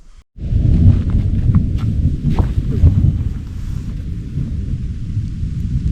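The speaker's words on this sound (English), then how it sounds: "I can hear the thunder moving in" A deep, rolling rumble of thunder fills the scene alongside steady rain and gusty noise, loud and continuous after a brief quiet start.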